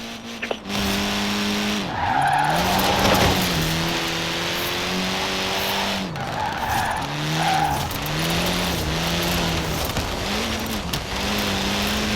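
A car in Forza Horizon 4 drifts through a power slide, its tires squealing in long wavering wails over a revving engine, loud and close with no speech.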